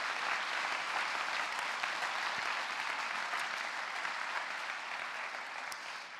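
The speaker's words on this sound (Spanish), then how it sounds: "me gustaría daros un aplauso y me ayudáis" Sustained audience applause at a church gathering, a dense even wash of many hands clapping that holds steady throughout, no talk over it.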